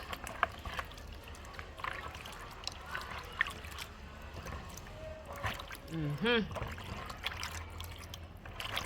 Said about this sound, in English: I wash off the coconut and start gratering